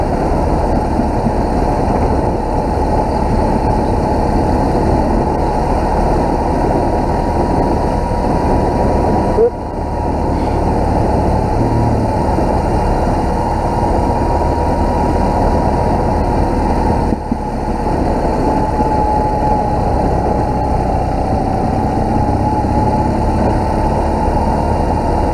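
Motorcycle climbing a narrow mountain road at Mt Hay in the Blue Mountains, Australia, engine droning in a steady low rumble buried under constant wind noise, with two brief dropouts.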